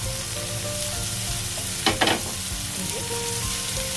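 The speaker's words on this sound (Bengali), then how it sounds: "পেঁয়াজটা খুব বেশি ভাজবেন না, অল্পই" Onion fries lightly in a pan for onion kachori, a steady soft sizzle broken by a brief clatter of stirring near the middle.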